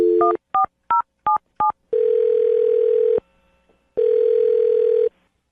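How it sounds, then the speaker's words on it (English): A telephone dials a number with five quick, evenly spaced keypad tones, followed by two long, steady ringback tones separated by a gap of silence. "I'm going to dial Alyssa's phone number right now"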